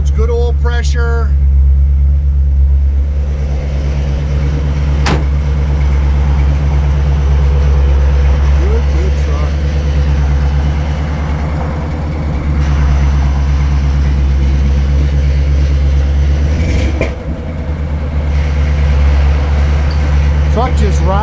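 A 1955 Chevrolet 3100 Big Back Window pickup idles steadily and close by for the whole stretch, its low engine hum running constant beneath someone talking throughout.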